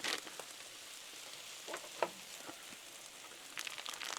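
Udon noodles frying on a Blackstone griddle for a chicken stir fry give a steady close sizzle, with louder crackling bursts at the start and again near the end.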